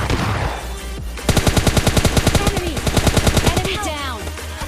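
Gunfire in PUBG Lite, a mobile battle royale game: a steady, rapid stream of close, loud automatic shots, with other rattling and whooshing game sounds mixed in.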